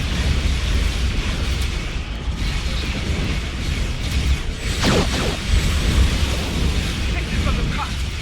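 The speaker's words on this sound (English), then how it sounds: "The Lucara taking enemy fire." A starship under enemy fire in Star Trek Online, with a dense continuous rumble of mechanical clatter and bursts of weapon impacts and explosions throughout, loud and busy.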